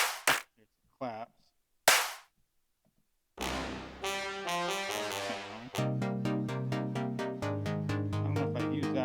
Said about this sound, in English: There's another clap.